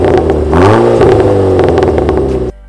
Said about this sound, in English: Every car enthusiast hates how restrictive a stock exhaust sounds on a new car.